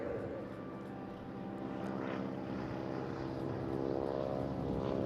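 Propeller aircraft at the Eastbourne International Airshow 2024 drones steadily overhead, a loud, continuous engine hum that swells slightly as it passes, heard alone.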